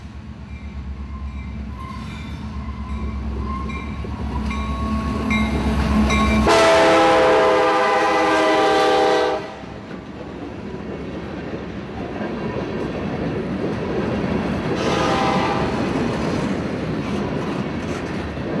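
A southbound freight train of empty wet-rock cars from a phosphate plant rolls past loud and close, its horn blasting in two long soundings over a steady rumble and clatter of wheels.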